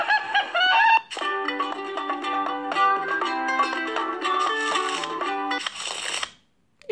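Whooping crane call played from a Biedronka Super Zwierzaki animal card app, a loud series of harmonic trumpeting and trilling notes lasting several seconds, after a brief opening squawk, with no speech.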